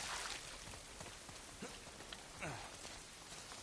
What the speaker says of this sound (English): The rain sounds pretty cool on my headset here right now